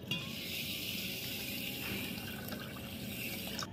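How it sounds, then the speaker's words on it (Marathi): Water pours steadily into a pot of sugar, a close, continuous splashing trickle with no voices. "आता या साखरेमध्ये आपल्याला घालायचं आहे पाणी"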